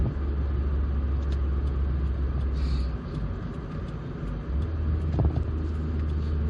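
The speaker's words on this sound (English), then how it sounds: "Feels wonderful to be driving this British sports car on a day like today" A 2003 MG TF135 British sports car on the move, its engine a steady low rumble with road noise throughout, dipping briefly midway before picking back up, heard from inside the cabin.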